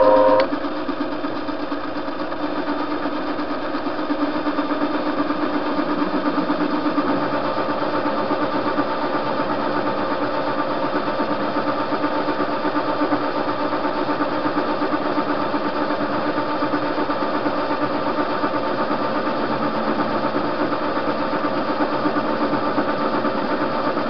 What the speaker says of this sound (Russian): Включим передачу.